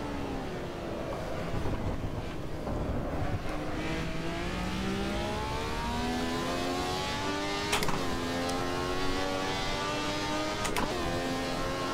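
A Ferrari 312T Formula One car laps Imola in the Assetto Corsa racing game, its engine note rising and falling through gear changes, loud and continuous with a couple of sharp shift cracks.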